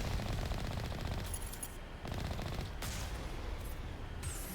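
Rapid automatic gunfire from the sci-fi shooter game Mass Effect, loud and dense bursts continuing almost without pause, with short gaps between volleys.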